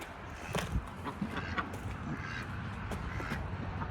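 Pekin and khaki ducks quack and honk repeatedly nearby in a scattered, uneven series of calls over a soft background.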